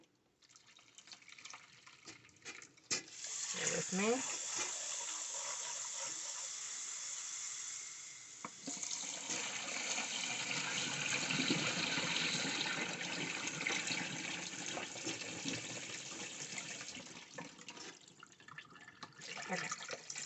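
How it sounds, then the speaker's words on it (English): Cold water from a kitchen tap running into a pot of just-boiled eggs, a steady faint gushing and splashing stream lasting well over fifteen seconds, with a brief spoken remark near the start. "I'm just going to put some cold water on them."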